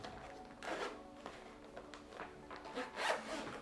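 A zippered case holding SYNCO G2 A2 wireless lavalier microphones is opened with a few short, quiet zipper pulls and rubbing sounds, close up in a calm room.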